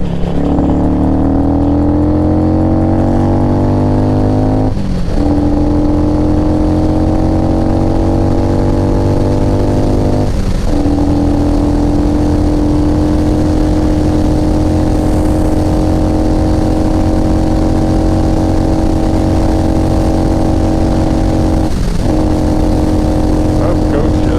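A motorcycle with no sixth gear cruises on a mild day. Its engine drones loud and steady the whole way, with brief dips at each gear change, about three in all.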